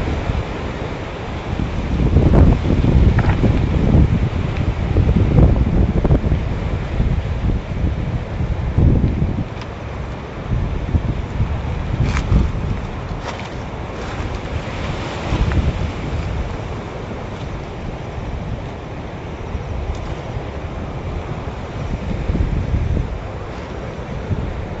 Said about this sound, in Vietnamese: Quá trời gió luôn.